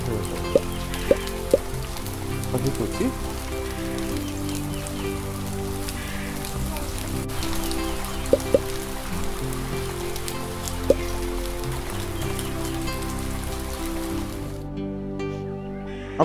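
Rain falling in the video game Rain on your Parade, a steady dense patter on surfaces with occasional sharp drip ticks and music-like tones beneath, stopping abruptly at the end.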